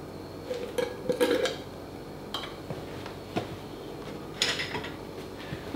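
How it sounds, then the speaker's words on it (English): Coconut oil being weighed out in a container for lotion bars, with light clinks and knocks of dishes and utensils scattered unevenly through the quiet, close by and moderately soft. "now we'll weigh out our coconut oil"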